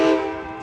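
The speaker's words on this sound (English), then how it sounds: "San Joaquin train" Amtrak San Joaquin passenger train 716 sounding its horn on arrival at Oakland Jack London Square, a single sustained multi-tone blast, loud and close, fading slightly as it holds, with no voices.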